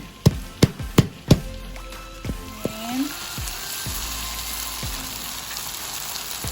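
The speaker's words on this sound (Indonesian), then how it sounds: "Daun salamnya kita tumis semuanya." Bay leaves hitting hot oil in a pan with the spice paste for East Javanese beef rawon, giving a steady sizzle and frying hiss under a few sharp utensil knocks near the start, close and fairly loud.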